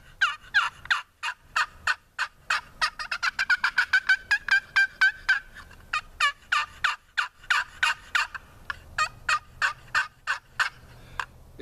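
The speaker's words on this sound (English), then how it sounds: "It's got the best double tone that you've ever heard in a box call." Wooden box turkey call dragged across its lid, producing a long run of sharp two-toned yelps that speed into a rapid cluster midway, then settle back into a steady rhythm, loud and close with no talking.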